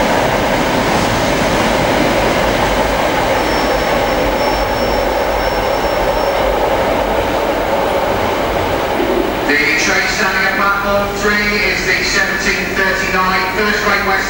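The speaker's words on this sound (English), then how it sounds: "I think there is a train standing in the station at the moment, so it crept up on the outside." A train, 43148 bound for Paddington, passes a station platform close by with a loud, steady rumble and wheel noise. Partway through, a higher tonal whine and squealing rise above it. People talk nearby throughout.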